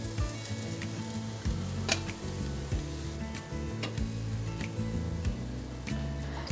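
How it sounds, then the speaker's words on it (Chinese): Potato and yam pan-fry in oil for a vegan dish, a soft continuous sizzle with occasional clicks of turning the pieces, quiet under a steady musical background. "让它来回煎，煎出两面金黄色"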